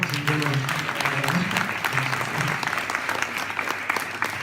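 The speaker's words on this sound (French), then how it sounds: "Il faut les applaudir encore." At a short-film festival awards evening, an audience applauds a film team with dense, sustained clapping filling a hall, a faint voice briefly audible beneath it early on.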